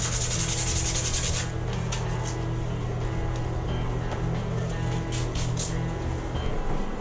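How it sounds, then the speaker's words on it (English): Steady, continuous rubbing of sandpaper over a fiberglass bathtub around repair holes, scratching close and even throughout with a low background hum and no talk. "So I want to be able to sand at least a half inch or so around the holes"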